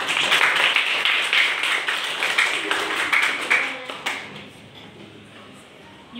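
Audience at a school spelling competition claps together in a dense, loud burst of applause for a few seconds that then thins and fades away.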